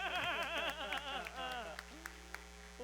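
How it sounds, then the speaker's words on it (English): An audience at a film festival event applauds to welcome Chef Namae, a steady wash of clapping mixed with several voices calling out, tapering off toward the end. "We have to clap louder."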